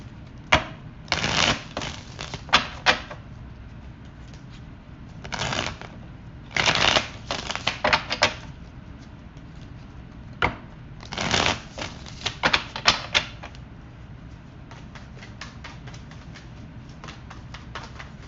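Tarot cards shuffled by hand in repeated bursts of riffling and flicking, loud and close, separated by short quiet gaps with no talking.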